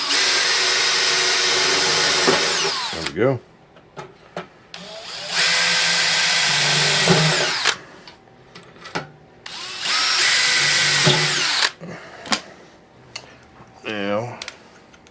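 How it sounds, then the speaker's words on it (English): A power drill pre-drills a screw hole during a furnace repair, running in three long loud bursts broken by pauses, clicks and handling noise, with a short remark from a man between bursts. "So I'm gonna pre-drill me a hole"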